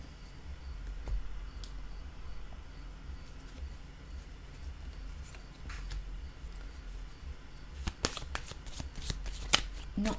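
Tarot cards are handled at a table. Soft shifting and placing sounds over a low room hum lead into a run of crisp, quick riffling and flicking clicks near the end.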